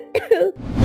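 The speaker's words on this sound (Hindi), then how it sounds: "खांसी इतनी ज्यादा बढ़ गई है कि मैं घर का काम भी नहीं कर पाई" A woman suffering from a persistent cough gives a short double cough with a throaty, voiced edge, close and fairly loud, followed by a breathy exhale.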